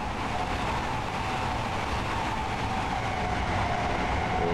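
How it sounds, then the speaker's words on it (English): A Class 801 LNER train in Train Sim World runs with a continuous low rumble and broad rolling noise, steady and close, with no voices. "There's our train."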